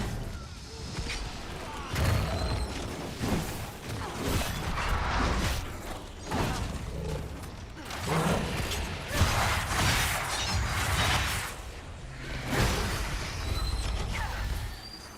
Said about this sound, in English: There are so many explosions coming up onto my feet.